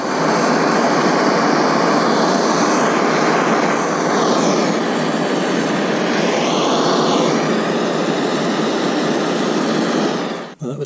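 A torch roars steadily and loudly while reheating an aluminium joint to flow HTS 2000 filler, a continuous broadband hiss that holds for about ten seconds before cutting off.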